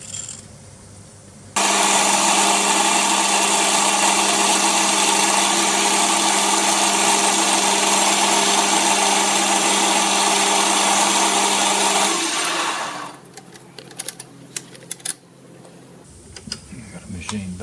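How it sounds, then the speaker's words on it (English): Lathe machining down the thread of a hydraulic hose fitting, a steady loud mechanical whir with tonal hum running about eleven seconds before spinning down, followed by brief clanks. "So I need to machine the thread down a little bit and make it a little shorter so it fits into here."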